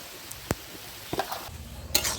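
Leafy greens (saag) frying in a pan while being stirred outdoors, a soft continuous sizzle with a few sharp clanks and scrapes of a spoon on the pan, near and fairly quiet.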